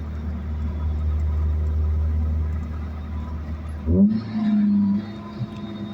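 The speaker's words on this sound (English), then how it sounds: "it's easy to rev match this car too, because you can hear it so well" A car engine idles with a steady low rumble, then a quick blip of the throttle sends the revs sweeping up and settling into a higher hum, loud and close, as when matching revs on a downshift.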